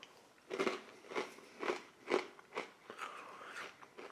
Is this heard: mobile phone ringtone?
no